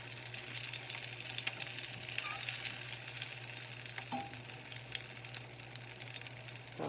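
A Beyond Burger patty fries and browns in a pan with a steady, close sizzle throughout, broken by an occasional brief clink or scrape.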